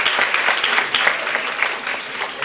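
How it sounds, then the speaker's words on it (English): A crowd applauds steadily, a dense wash of clapping with a few sharp claps standing out. "let's give ourselves a big round of applause."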